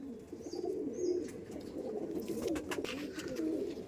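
Madras breed pigeons cooing nearby in soft, repeated low rolling coos, with faint chirps above them and no talking.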